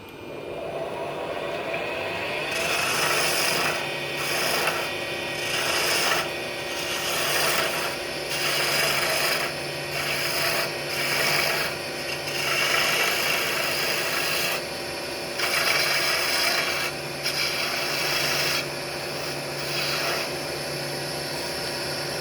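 Wood lathe spinning a color ply finial at about 1100 RPM while a 3/8 inch Thompson detail gouge cuts it, giving steady rasping, scraping bursts over a constant machine hum, close and fairly loud, with no talking.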